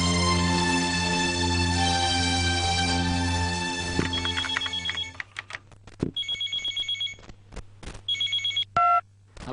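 A telephone bell rings loudly and steadily for about five seconds, then breaks into shorter repeated electronic ring bursts with gaps between them, with no talk over it.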